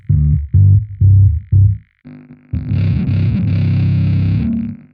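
A heavily distorted bass guitar played through a Line 6 Bass Pod XT Live plays four punchy notes, then rings out with a dense, fuzzy, sustained chord. Loud and close, with no voices.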